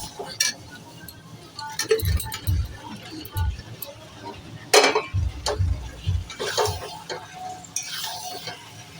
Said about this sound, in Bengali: মশলাটা অনেকক্ষণ ধরে কষিয়েছি, এবার আলুগুলো দিয়ে আবার একটু কষিয়ে নেব